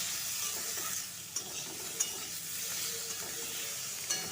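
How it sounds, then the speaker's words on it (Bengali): Eggplant pieces sauté in a pan with a constant close sizzle, while a spatula stirs them with a few sharp scraping knocks. "এখানে বেগুনগুলো দিয়ে দেব বেগুনগুলো দিয়ে আরও খানিক্ষণ কষিয়ে নেবো"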